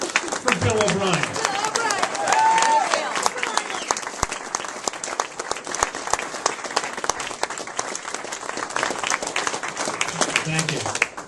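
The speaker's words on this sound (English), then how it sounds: "Ladies and gentlemen, please give a big round of applause for Bill O'Brien." Crowd applause at a campaign debt retirement event welcoming a speaker, dense clapping with cheers and voices mixed in, lasting several seconds and continuing steadily under scattered talk.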